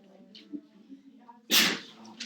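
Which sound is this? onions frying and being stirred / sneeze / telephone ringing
sneeze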